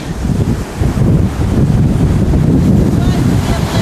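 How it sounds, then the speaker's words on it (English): Atlantic surf and strong wind at the mouth of the Senegal River, a loud continuous roar with heavy wind buffeting on the microphone. "we're at the mouth of the Senegal River, where it empties into the Atlantic"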